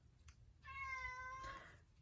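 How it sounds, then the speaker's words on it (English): One of several house cats gives a single clear, drawn-out meow, faint and fairly distant in a quiet room with no talking. "You'll hear cats because I have a fair few of them."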